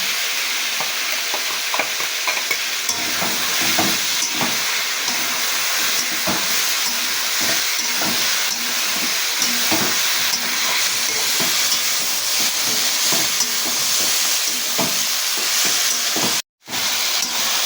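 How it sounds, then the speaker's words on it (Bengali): Bottle gourd sizzles and frys in a pan while being stirred with a spice paste of salt and turmeric, a steady close hiss broken by repeated scraping strokes of the spoon, with no talking. "এবার মশলাটা আমি লাউয়ের মধ্যে দিয়ে দিচ্ছি"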